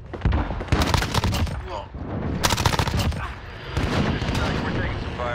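Bursts of automatic gunfire crack and rattle in Call of Duty: Modern Warfare during a bomb-planting match at Suldal Harbor, loud and close, in several volleys with short gaps.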